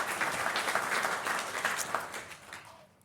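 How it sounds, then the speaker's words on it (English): An audience at a 2024 State of the City address gives a short round of applause. The steady, moderately distant clapping lasts about three seconds before fading out. "So please give her a round of applause as well."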